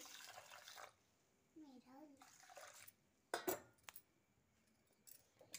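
Urad dal lentils being rinsed in water in a home kitchen, with soft splashing and swishing in short bursts, a brief clatter of a vessel, and a voice talking briefly at times.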